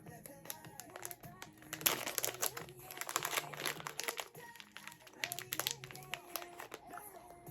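Plastic packaging around a set of black and silver earrings crinkles and crunches in irregular bursts as it is worked open by hand, close and fairly quiet, with brief pauses between handlings.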